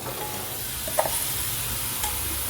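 Chicken sizzles in a pan with tomato, a steady close frying hiss with a couple of light utensil taps, no voices.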